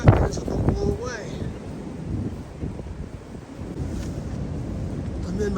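Strong gusting wind on the Pacific Crest Trail near Idyllwild on a cold January day, roaring steadily into the microphone with buffeting low rumble throughout, no clear talk over it.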